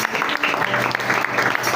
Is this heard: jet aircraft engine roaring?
no